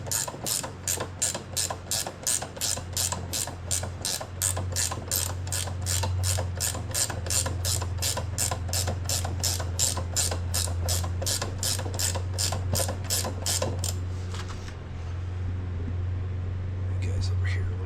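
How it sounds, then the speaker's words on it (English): A hand ratchet clicks in a fast, even rhythm while tightening a bolt on a Honda 350X front fork, dozens of close, crisp ticks running steadily before stopping, with faint low voices underneath. "Try to tighten this bolt down."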